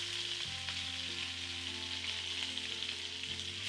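Cauliflower pieces seasoned with turmeric and chili powder frying in a pan, a close, steady sizzle with faint stirring scrapes and no voice.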